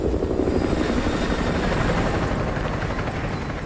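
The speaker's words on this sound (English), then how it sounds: "Chopper inbound, keep low." A helicopter from the Call of Duty Modern Warfare 2 campaign passes overhead with a steady, loud rotor thrum and engine whine that holds at constant strength throughout, with no voices.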